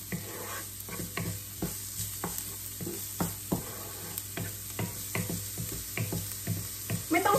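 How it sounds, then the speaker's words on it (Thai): Garlic and shallots stir-fried in a pan give a steady close sizzle, punctuated by repeated sharp scraping and tapping strokes of a spatula at an uneven rhythm. "ใส่กระเทียมลงไปได้เลยตามด้วยหัวหอมหรือไม่ก็หอมแดงนะคะผัดให้เข้ากันจนเขาเหลืองหอม"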